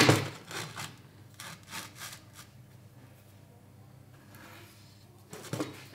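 Several short back-and-forth hand sawing strokes rasp through aluminium, loud at first then fainter, with pauses between bursts and a final stroke near the end.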